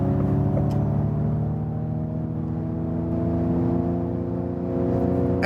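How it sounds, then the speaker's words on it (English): A Ford Mustang Mach-E accelerates in Untamed mode, its electric sound generator producing a steady synthetic hum whose layered tones climb slowly, heard from inside the cabin over road and motor noise with no talking. "you also heard this electric sound, this sound generator"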